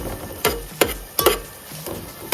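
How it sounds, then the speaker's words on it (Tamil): Onions sautéing in a pan for brinjal biryani, with a steady close sizzle and four or five loud spoon scrapes and stirs spaced across the moment, no voices. "வெங்காயம் நல்லா வதங்குது"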